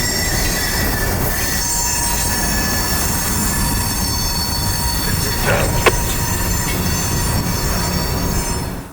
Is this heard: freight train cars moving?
yes